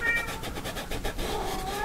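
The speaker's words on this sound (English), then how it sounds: "He's a lovely little tuxedo cat." A tuxedo cat meows repeatedly in a studio, its calls sounding near and fairly loud against a steady background noise, with no talking.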